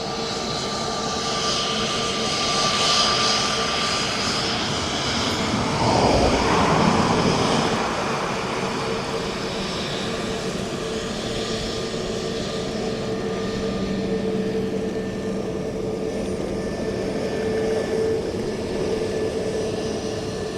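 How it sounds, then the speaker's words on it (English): An incoming aircraft approaching Dublin Airport, a broad steady engine roar that swells to a peak around the middle as it passes close, then holds on as a continuous drone with no talk. "I want to get this incoming aircraft."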